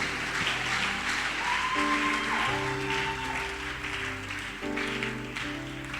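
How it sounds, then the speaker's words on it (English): Audience at a closing ceremony applauding steadily throughout, a dense wash of clapping that holds a fairly loud, even level with music playing alongside it. "Let's give him a round of applause."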